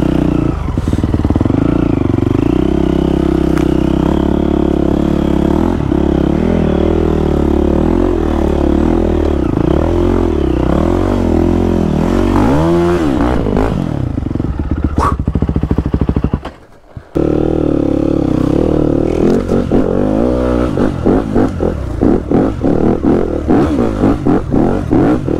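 Enduro motorcycle ridden off-road, its engine droning and revving continuously up close with rising and falling pitch, clattering and scraping over rough ground, briefly cutting out near the middle.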